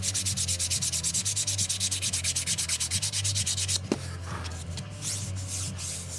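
Model airplane parts sanded by hand in steady, rapid back-and-forth strokes, close and loud, for several seconds before a brief knock and quieter, irregular rubbing.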